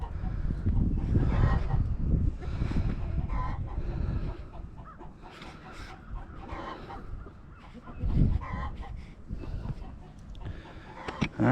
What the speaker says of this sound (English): I just collected the eggs, and boy, she's squawking like crazy.